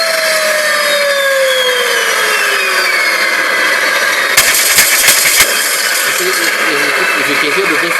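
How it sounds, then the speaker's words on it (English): A machine gun sound effect plays loud and continuous through a bare speaker with no box, with a cluster of sharper bursts in the middle. "the machine gun sounds a lot sharper compared to this"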